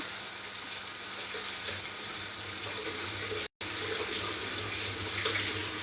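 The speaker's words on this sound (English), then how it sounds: "I'm just going to give this a quick wash" Tap water runs steadily into a kitchen sink while fresh coriander is washed, a continuous soft rushing hiss with a brief dropout partway through.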